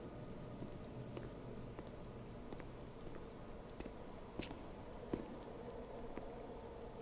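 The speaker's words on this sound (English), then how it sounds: "Still rain falling through, which I find funny." Soft, steady rain pattering on surfaces in the game XCOM: Enemy Within, a faint continuous hiss with scattered droplet ticks.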